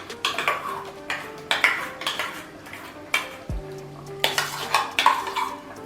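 A spoon stirs chickpea paste into paneer masala in a pan, giving repeated scraping clinks and knocks against the metal in a steady rhythm, with a faint sizzle underneath and no talking.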